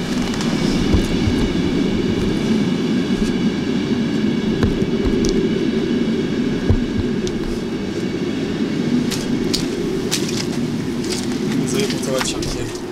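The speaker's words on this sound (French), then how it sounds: "Alors, on voit qu'il y a encore un train qui passe." A train rolls past near a military vehicle scrapyard, its steady low rumble and rail noise holding for the whole stretch, with faint clanks on top while people talk over it.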